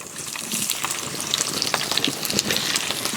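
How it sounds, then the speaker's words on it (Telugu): Tempering spices and lengthwise-sliced onions fry in hot oil for a coconut curry, giving a loud, close, continuous crackling sizzle with bright pops throughout. "ఇప్పుడు ఇందులో పోపు దినుసులు వేసుకుంటున్నాను అలాగే నిలువుగా కట్ చేసుకున్న ఉల్లిపాయ ముక్కలు కూడా వేసుకుంటున్నాను"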